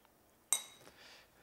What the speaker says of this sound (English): I'm going to put an onion in it.